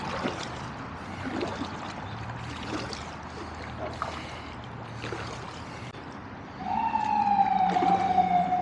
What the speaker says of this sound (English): I'm sure you can hear the sirens.